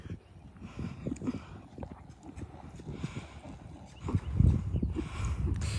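Hooves clip-clop in a quick, steady rhythm as a horse lopes along, growing louder and closer toward the end, with faint background noise.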